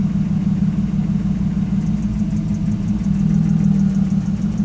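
A car engine idling on LPG gas, a close, steady mid-pitched hum and rumble with a constant even tone and no speech.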